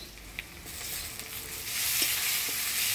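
Chopped tomato goes into a pan of onions fried with whole garam masala, dried chillies and bay leaves. A steady sizzle grows louder and hissier partway through, with a few soft stirring clicks.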